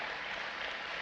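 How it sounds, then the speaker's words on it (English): Audience applause at a talk, a dense steady clatter of many hands clapping, loud and continuous. "one more hand clap for Rob, everybody."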